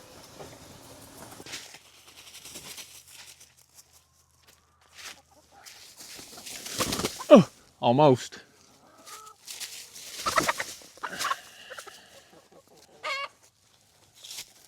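Loose farm chickens cluck and squawk in scattered bursts while being caught, with footsteps, rustling and brief speech mixed in, louder squawks near the middle.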